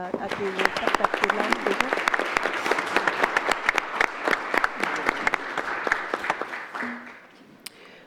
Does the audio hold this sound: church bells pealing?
no